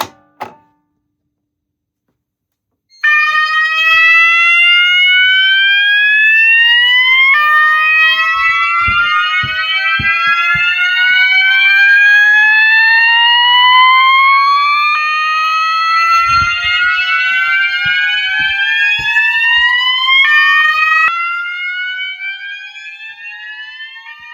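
A loud electronic fire alarm, triggered by a System Sensor BG10 pull station, blares continuously in repeating rising sweeps, with a few low thumps partway through, after a sharp click and brief silence; basement system test.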